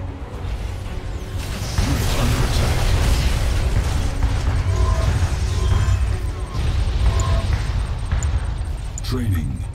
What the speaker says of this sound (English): Bombing run initiated.